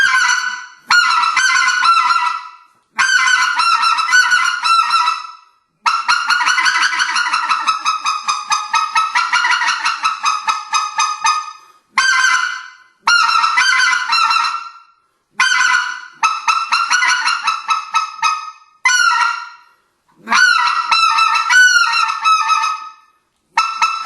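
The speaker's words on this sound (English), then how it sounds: "the basics of calling on a spec call" Specklebelly goose call blown by a hunter, loud and close, in bursts of rapid yodeling honks and clucks separated by short pauses, with no talk.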